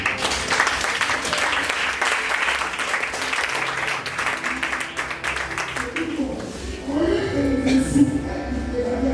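A church congregation applauds and cheers in praise of the Lord, dense clapping and voices filling the room for several seconds before giving way to music and a speaking voice.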